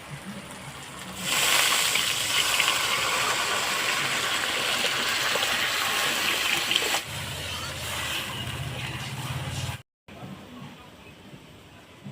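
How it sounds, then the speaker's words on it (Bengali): Water poured into fried spice masala in a pan for a fish curry, a steady gushing hiss that rises sharply then continues with a bubbling, rumbling sizzle, close and fairly loud. "আমার মশলাটা সুন্দর মতন ভাজা হয়ে গেছে এখন আমি জল দিয়ে দেবো"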